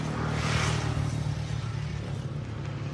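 A motorcycle engine on a Karachi to Islamabad road trip, running steadily with a low rumbling hum and a brief rise in intensity early on, fairly close and heard alone without talk.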